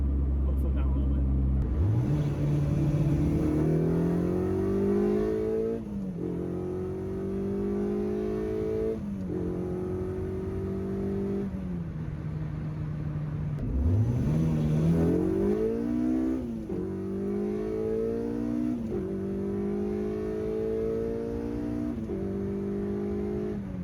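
Honda Civic EG with a swapped 2.4-litre K24 engine accelerating hard on open road, the engine note climbing through gears with rising revs and brief drops at shifts, loud and close from inside the car.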